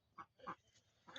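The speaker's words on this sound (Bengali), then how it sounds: "দেখা যাচ্ছে যে 308 পিস হাঁস আছে" Ducks on a duck farm, a flock of around 300 laying birds, give three short, moderately loud quacks spaced apart over a low background murmur.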